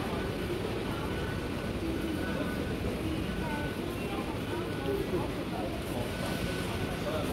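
Steady rumble and rolling rail noise from inside a moving Taipei MRT train, continuous and fairly loud, with people talking over it.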